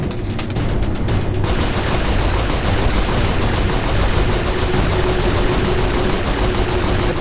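Sustained rapid turret gunfire from the video game Saints Row IV, dense automatic bursts that stay loud and continuous with no pauses and no talking.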